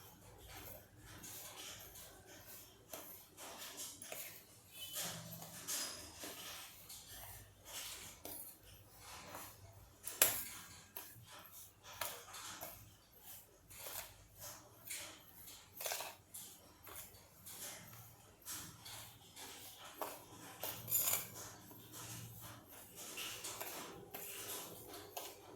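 Hot jackfruit pickle being stirred and mixed in a large metal plate, with soft scraping and occasional clinks of utensil on metal, faint and irregular.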